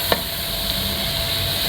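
Minced meat keema fries in a pan with a steady, loud, close sizzle and a single brief knock of a spoon near the start, no talk.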